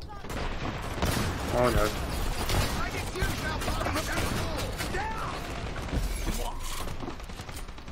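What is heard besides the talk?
gunfire in a video game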